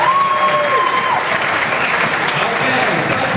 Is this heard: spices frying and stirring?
no